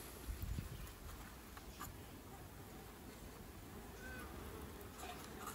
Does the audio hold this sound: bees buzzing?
yes